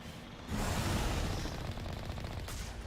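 Rapid enemy gunfire from the Mass Effect Legendary Edition video game, a loud, dense rattling burst that kicks in after a brief quiet start and keeps firing steadily to the end.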